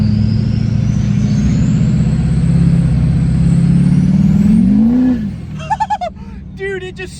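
Duramax diesel truck, fitted with an 800 HP fuel upgrade, accelerating hard in third gear, with a loud, near engine drone rising steadily in pitch before dropping off, followed by excited voices at the end.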